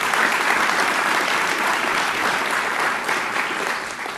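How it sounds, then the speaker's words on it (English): Sustained, loud applause from an audience at a spring Dream Team awards ceremony, honoring the baseball Dream Team, steady dense clapping with no talk throughout. "Can we get another round of applause for the baseball Dream Team this year?"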